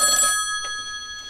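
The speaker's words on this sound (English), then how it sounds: "Is that the phone ringing?" An old 1990s telephone rings briefly, a bright electronic trill that cuts off quickly and leaves near silence, loud and close.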